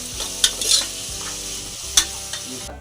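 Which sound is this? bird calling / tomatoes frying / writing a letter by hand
tomatoes frying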